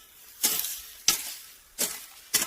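Four sharp, close strikes of a tool biting into soil while digging out elephant foot yam tubers outdoors, spaced unevenly with quiet gaps between.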